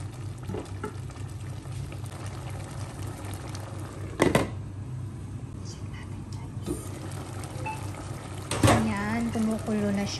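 Mung bean stew with bitter melon, flavored with smoked fish, bubbles at a steady boil in a pot, a continuous close simmering hiss broken by a couple of brief stirring clatters.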